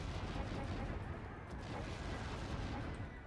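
Long-range artillery fire in the real-time strategy game Act of Aggression, a dense, continuous rumble of distant booms and blasts that blur together at steady loudness through the short stretch.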